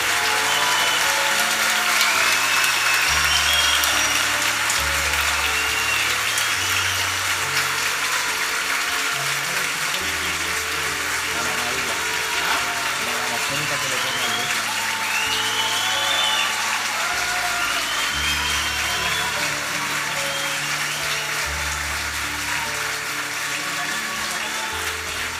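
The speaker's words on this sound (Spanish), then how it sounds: "Le otorgamos un fuerte aplauso a la generación 2023 del cuarto medio A." Applause for the 2023 graduating class at a school graduation ceremony: a long, dense, steady wash of clapping from a crowd, with low tones beneath it throughout.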